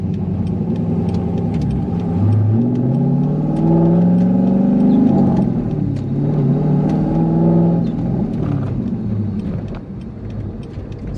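A cammed C5 Corvette Z06 V8 runs close by with a loud, choppy, lumpy rumble that swells and eases as it is blipped, then settles lower toward the end.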